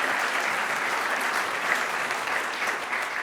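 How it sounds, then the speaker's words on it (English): An audience applauds a speaker at an international scientific innovation conference, a full, even wash of clapping that holds steadily from start to finish. "Please give a big round of applause for Rana Gonheim."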